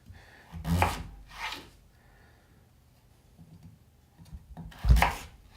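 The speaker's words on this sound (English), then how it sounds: "Cut them into pieces" A knife chops a potato into pieces on a cutting board: a few sharp, distinct cuts with gaps between them, close and clear, with no talking.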